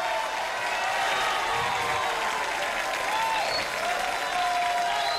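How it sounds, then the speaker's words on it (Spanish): An audience at a public event in Peru gives sustained, even applause that fills the whole stretch at a steady loud level, with faint crowd murmur beneath. "a quien le pido un fuerte aplauso para él"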